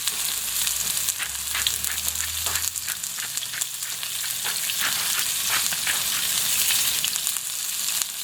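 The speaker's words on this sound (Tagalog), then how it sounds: "First step po natin, ipiprito po natin tong carrots at potato." Carrots and potatoes fry in a pan with a steady, dense sizzle and crackle that runs unbroken throughout, loud and close, with no talking.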